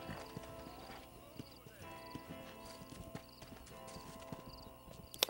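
Horse hooves clip-clop at a steady gait across the whole stretch in Red Dead Redemption, moderately loud and near, with a brief whinny and a voice talking over part of it.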